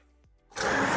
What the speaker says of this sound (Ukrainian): Усе переб'ю блендером.